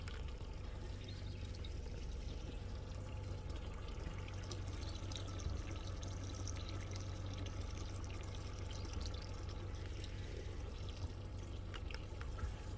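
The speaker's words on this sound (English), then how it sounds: "you do see water, a small stream of it shooting out the side of the motor" A small stream of cooling water shoots from the side of a pontoon boat's outboard motor, a steady continuous splash and pour close by over the engine's low drone, with no speech.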